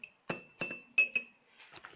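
A metal spoon stirring sugar in a tea glass strikes its side in about five bright, ringing clinks, close up and spaced irregularly, with no voices.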